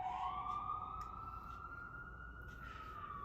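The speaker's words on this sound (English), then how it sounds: "Sorry, I'm just letting the siren pass." An emergency vehicle siren passes by outdoors, a steady rising and gliding wail heard from some distance and moderately faint, with no talking over it.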